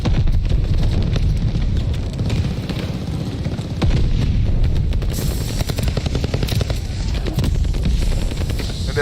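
Welgun hip-fire in a shooter game: sustained rapid automatic gunfire that is loud and dense, with a steady rattling rhythm over constant rumbling background noise for the whole stretch.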